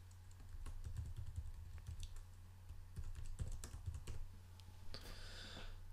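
Quiet typing on a computer keyboard, a string of light key clicks in irregular bursts under a steady low hum, with no talking.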